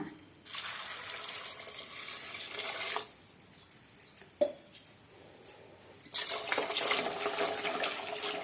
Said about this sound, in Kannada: ಅಷ್ಟು ನೀರು ಸೇರಿಸ್ಕೊಳ್ಳೋಣ